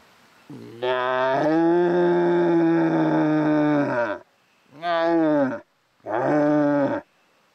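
Red deer stag roaring during the rut, one long drawn-out bellow followed by two shorter roars after brief pauses, loud and clear with no talk.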